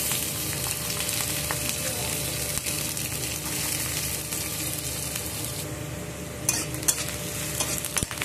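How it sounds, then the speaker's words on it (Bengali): Chopped onion sizzles in hot oil in a kadai as a spatula stirs it, a constant close frying hiss with scraping strokes and a few sharper clinks toward the end. "পেঁয়াজটাকে আমি এখানে ভালো করে ভাজা করে নেব, লাল লাল করে।"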